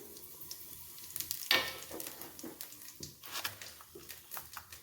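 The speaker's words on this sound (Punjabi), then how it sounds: "ਤੇਲ ਆਪਣਾ ਗਰਮ ਹੋ ਚੁੱਕਿਆ ਹੈ ਆਪਾਂ ਥੋੜਾ ਜਿਹਾ ਲਿਆਏ ਜੀਰਾ ਸਵਾਦ ਅਨੁਸਾਰ ਥੋੜੀ ਜਿਹੀ ਅਜਵਾਇਨ" Cumin and carom seeds hitting hot oil in a kadai for a cabbage gravy: a steady close sizzle and fizz with a sharp hiss as they go in, plus scraping stirring clatter throughout, with no talking.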